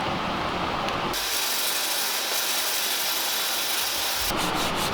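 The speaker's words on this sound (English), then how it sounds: "when you wet sand, that's why you wet sand, because it doesn't fill up the sandpaper" Holden ute body panel being wet sanded by hand with sandpaper: a loud, close, continuous hissing rub that holds steady throughout, with brief scratchy strokes near the end.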